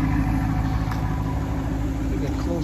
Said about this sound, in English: Does have a nice exhaust.